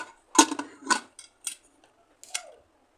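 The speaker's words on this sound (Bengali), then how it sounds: "এবার আমি এটাকে ঢাকনা মরে দেব" A lid set onto a cooking pot of hog plums: a few sharp metallic clinks and rattles in short, separate bursts, close by, then quiet, with no talking.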